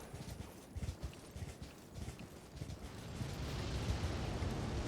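Horse hooves clatter in quick rhythmic beats in the video game Elden Ring over a muffled rumble. The hoofbeats fade into a rising rushing wash of sound toward the end.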